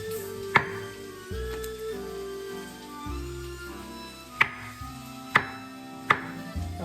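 A kitchen knife chops trimmed zucchini into half-inch chunks on a cutting board, giving a few sharp, sparse thwacks spaced irregularly, with quiet room sound between the cuts.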